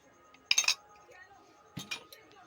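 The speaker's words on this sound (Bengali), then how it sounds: "একটু বাটিতে একটু জল দিয়ে মশলার বাটিটা ধুয়ে নেব।" A spice bowl clinks against other dishes while it is rinsed with water in a home kitchen, giving two clusters of sharp, close ceramic and metal knocks against a quiet background.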